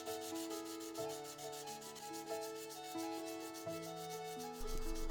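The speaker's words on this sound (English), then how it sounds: "I then move over to using sandpaper to make it even finer." Sandpaper rubbed back and forth along the edge of a traditional folded axe in rapid, regular scratchy strokes, close up, with steady musical tones playing underneath and no talk.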